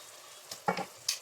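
Shrimps dropped into a pan of buttered garlic sauce sizzle faintly and close by, with a few short bursts of hiss and clatter as they land.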